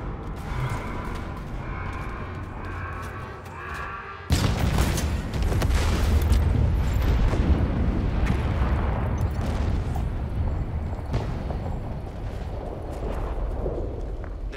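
Gun generator exploding in the Halo Infinite campaign: a sudden heavy boom after a few seconds of quieter hum, followed by a long, loud roar of rumbling blasts and crackling debris that slowly fades.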